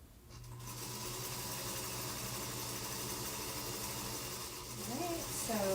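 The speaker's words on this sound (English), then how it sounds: "I'm just basically going to just sew down the strips to assemble the block." A sewing machine runs steadily while stitching quilt strips together to assemble a quilt-as-you-go block, a continuous close motor hum with a soft speaking voice rising briefly near the end.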